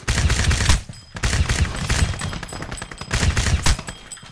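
Gunfire from Crysis multiplayer, loud bursts of rapid shots in several clusters separated by short pauses, close and punchy, with no voices.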